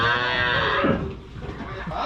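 Cattle moo at a farm where cows are kept for sale, a single drawn-out low call near and loud, then fading into quieter farmyard noise with a faint voice.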